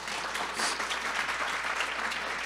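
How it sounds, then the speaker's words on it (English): A fairly faint, steady round of applause from a breakfast audience at a Dr. Martin Luther King, Jr. tribute, welcoming first-time campus visitors. "Let's give them a round of applause and welcome them."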